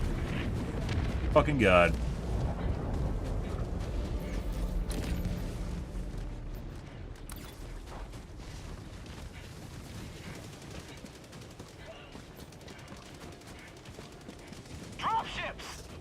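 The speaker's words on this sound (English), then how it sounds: "Warning, you are in range of enemy artillery." Enemy artillery shelling on a Helldive-difficulty mission in Helldivers 2: heavy booming blasts and rumbling impacts, with a big burst near the start and another late, under frequent talk from players.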